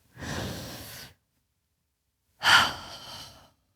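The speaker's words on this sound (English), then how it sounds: "everybody just take a deep breath with me here" One deep breath, a slow inhale followed after a pause by a fuller, louder exhale, heard close and alone with no talk.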